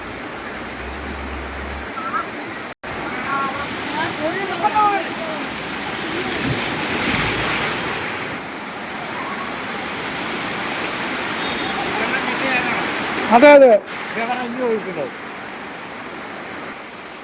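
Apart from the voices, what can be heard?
floodwater rushing forcefully over a road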